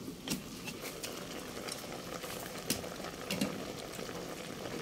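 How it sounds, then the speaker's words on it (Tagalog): Water boiling in a pot as a kidney stone remedy: a continuous dense bubbling and hissing, close and moderately loud, with no talk. "Yan, kumukulo na po siya."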